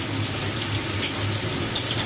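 A spoon stirs papaya curry in a pan, a soft continuous sizzle with a few brief scraping strokes against the pan, close and moderately quiet, with no talk.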